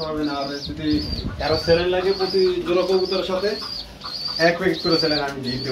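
A pair of Hanapota pigeons with their family coos in repeated throaty, rolling bursts, close by and fairly loud, with a few chirps mixed in.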